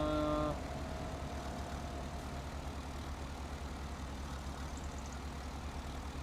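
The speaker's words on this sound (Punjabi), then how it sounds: "ਬੈਕ ਕਰ ਲੈ ਟਰੈਕਟਰ ਬਾਈ" Tractor engine in a video game, a steady low droning idle that runs the whole time at an even level, with a brief tonal sound at the very start.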